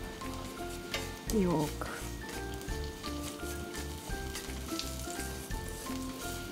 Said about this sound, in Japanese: 要するにニンニクとコリアンダーの香りのついた油を作って、中弱火くらいでゆっくり